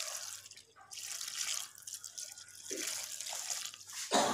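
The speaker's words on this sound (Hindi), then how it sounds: "पानी हम थोड़ा थोड़ा डालेंगे ताकि हमारा ये गुठली ना बने" Water trickles and drips in small, intermittent splashes as it is added bit by bit to maida flour for halwa, quiet and close, with no talking.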